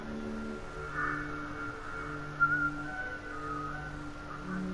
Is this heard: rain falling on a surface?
no